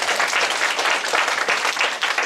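An audience at a lecture gives a brief burst of dense applause, loud and close, with no talk over it.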